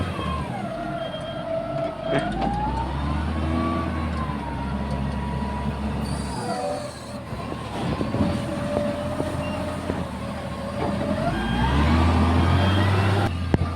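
A tipper truck being loaded, its diesel engine giving a loud, continuous drone with whining tones that rise and fall throughout, and no voices.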